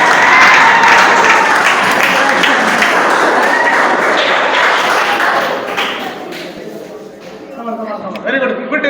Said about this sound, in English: Very good claps, Dr. Bro.